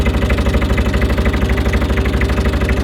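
Car engine idling steadily after warming up until the thermostat opens, a close, even mechanical hum with rapid rhythmic pulsing and slightly uneven revs, no voices over it.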